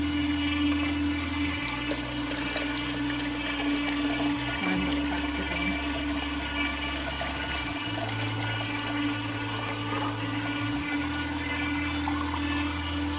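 Steady rushing water runs through a Juico Uno juicer continuously for the whole stretch, with a low motor-like hum that steps between two pitches underneath, close and fairly loud.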